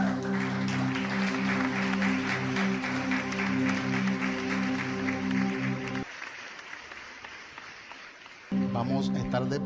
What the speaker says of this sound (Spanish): Un aplauso a las mujeres.